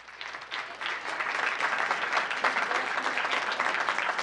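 Applause from a seated audience at a town council meeting fills the room, a steady dense patter of many hands clapping that swells after the first half-second and holds without any talk over it.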